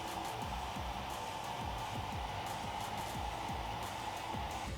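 A heat gun blows steadily, shrinking heat shrink tubing over wiring for a Jeep Wrangler JK front bumper light install; a quiet, even whooshing hum runs throughout, with faint handling noises underneath.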